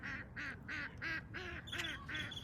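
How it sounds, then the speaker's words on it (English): A fussy bird in a park gives a run of about eight harsh, nasal quacking calls in a steady rhythm, fairly close and clear, with nobody talking over them. "That bird a little fussy over there."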